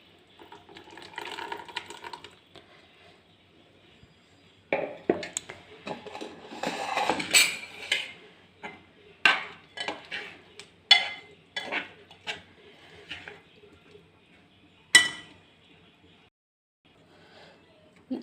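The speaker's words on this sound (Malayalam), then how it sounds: "ഞാൻ ഈ മിക്സ് ഒരു പാത്രത്തിലേക്ക് ഒഴിച്ചു കൊടുക്കുകയാണ്." Blended carrot cake mix is poured into a bowl in a quiet kitchen, with short bursts of pouring liquid and scattered utensil and dish clinks heard close by in irregular clusters.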